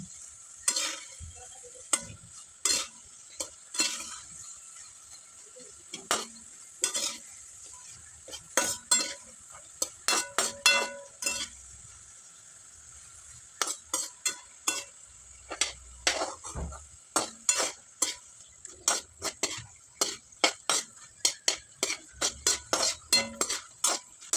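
Crisp chapati pieces frying in a pan over low heat and being turned with a utensil, giving a soft sizzle broken by many sharp scrapes and clinks against the metal, close up and without speech.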